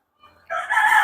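An Egyptian Fayoumi rooster crows nearby and loudly, a brief call that rises abruptly after a faint start and cuts off within a second.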